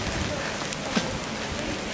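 Hailstones fall in stormy Icelandic weather, a dense, continuous patter and hiss of pellets striking surfaces close by, with a few sharper individual ticks standing out from the steady wash.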